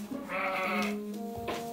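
A sheep bleats once in a winter stall, a close, wavering nasal call that fades and gives way to a brief second sound.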